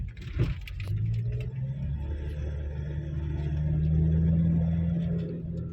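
Mitsubishi Pajero diesel engine with turbo pulling hard under acceleration, a steady low rumbling drone that swells louder toward the end, heard from close by with a brief rattle near the start.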